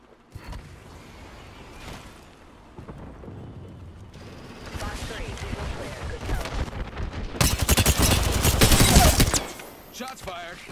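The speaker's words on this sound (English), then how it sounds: "Shots fired, and they're hitting me." Apex Legends gunfire: scattered single shots at first, building into dense rapid bursts and a loud sustained volley of automatic fire before it cuts off, with game effects around it.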